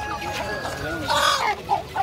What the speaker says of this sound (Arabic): وهذا الديك الكبير هذا ب20